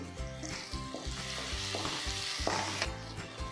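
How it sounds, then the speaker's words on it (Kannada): Chopped tomato frying in a pan, with a steady close sizzle and the scrape of stirring now and then, heard alone with no talking. "ಟೊಮೆಟೊ ಫುಲ್ ಸಾಫ್ಟ್ ಆಗೋವರೆಗೂ ಫ್ರೈ ಮಾಡ್ಕೋಬೇಕು."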